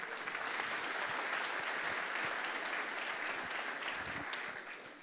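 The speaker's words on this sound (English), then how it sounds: "please give another big round of applause to all the startups that just presented." An audience at a tech startup summit gives a long round of applause after startup presentations: dense, even clapping that holds steady before tapering off at the end.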